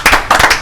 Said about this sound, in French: merci pour les applaudissements sur ce plateau